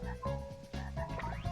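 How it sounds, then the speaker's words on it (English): Frog croaking in the video game Glover, a rapid run of several loud, close, buzzy croaks in a regular rhythm with no talk. "Glover becomes a freaking frog."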